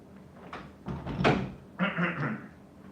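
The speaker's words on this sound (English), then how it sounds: "We gotta close the door." A door being pulled shut indoors, heard as a few close, dull knocks and thuds followed by a brief rattling scrape, with no talking.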